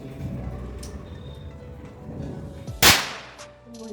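A single sharp firecracker bang goes off during Diwali celebrations, a loud sudden crack standing out against a murmur of background activity.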